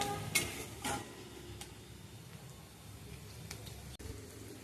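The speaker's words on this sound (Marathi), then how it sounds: "आणि छान आता याला परतून घेऊया" Chillies and onions sautéing in a pan, soft sizzle under a few spoon scrapes and clinks against the pan, fairly quiet and close.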